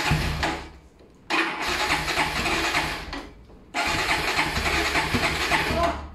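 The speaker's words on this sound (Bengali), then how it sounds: "বাইকের সাউন্ডটা শোনাই" A TVS Apache 4V ABS motorcycle cranks in three separate attempts, each a loud close starter-and-engine burst with short gaps between, ending in a sustained run.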